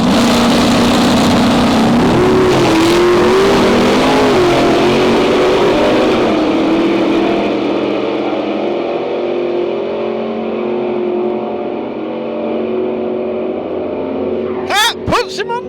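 Drag racing cars launch and race at Santa Pod: a loud, continuous engine roar that rises and holds, then slowly fades into the distance, with a short burst of sharp noise near the end.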